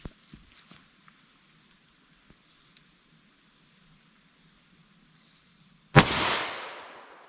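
A single loud, sharp shot from a .327 Federal Magnum revolver with a 4.2 inch barrel, firing a 90 grain handload, cracks near the end after quiet ticking, followed by a brief decaying ring.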